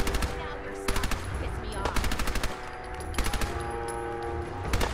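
Tommy gun in Fallout 4 firing in several sustained automatic bursts, loud and close, with brief gaps between volleys and a low background hum.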